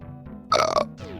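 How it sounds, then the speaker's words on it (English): A single short, loud burp from a streamer playing Super Metroid, lasting under half a second, rising abruptly out of quiet background game sound. "Yes, burped."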